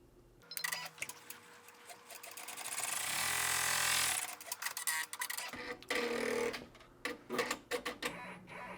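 An embroidery machine stitching a placement square for an in-the-hoop bear sign, heard as rapid mechanical ticking and whirring that builds into a sustained stitching run, then breaks into irregular clicks and short bursts, close and clear.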